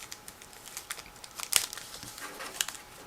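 Transparent plastic bag packaging of a 1/72 scale model kit crinkles and rustles as it is handled and pulled open, with a couple of sharper crackles, close and fairly quiet.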